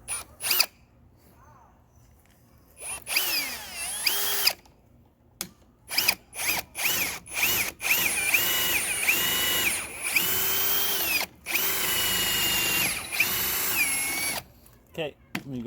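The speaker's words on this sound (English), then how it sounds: "And then drill." Drill press boring a hole for stainless cable deck railing, the motor whirring in repeated short bursts and then in long sustained runs, loud and close, with brief pauses between.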